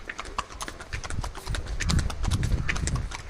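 A horse's hooves clip-clop in a quick, uneven rhythm on a tourist horse ride up a mountain trail in Pahalgam, Kashmir, close and clear, growing slightly louder midway.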